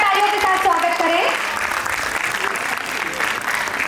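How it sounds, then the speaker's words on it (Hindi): Loud, dense applause fills the hall to welcome guests at a formal lamp-lighting ceremony, starting under a voice that trails off, then continuing steadily on its own. "जोरदार तालियों के साथ स्वागत करें"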